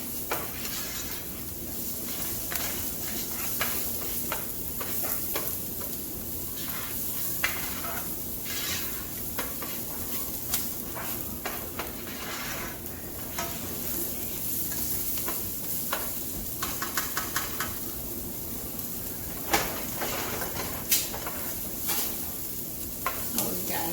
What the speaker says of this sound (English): Can see, yes, I'm browning it a little bit.